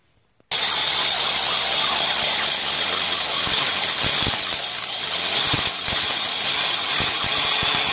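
A portable core drill bores into a gold-rich rock outcrop with multiple mineralized veins, its loud, steady engine drone cutting in abruptly after a brief quiet start and running throughout with rattling, grinding texture.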